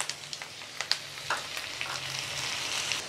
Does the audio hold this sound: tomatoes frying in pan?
yes